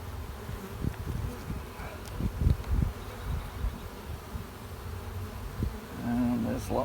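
Honey bees buzz steadily inside an opened hive's brood chamber during a spring inspection, a continuous close hum with faint rustling and handling noises throughout.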